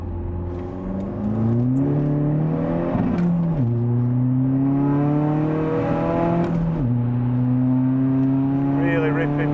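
An upgraded Audi A3 2.0 TDI with a BKD engine, tuned to 360 bhp, pulls hard through the gears from inside the cabin, loud, rising engine drone broken by quick gear changes, each followed by another climb.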